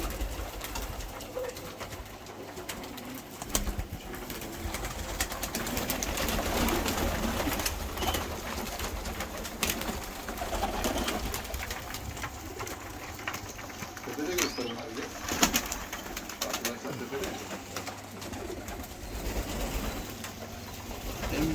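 Pigeons in a large coop kept by a Bulgarian-émigré breeder, cooing and fluttering in a steady, busy background, with people talking over the birds throughout.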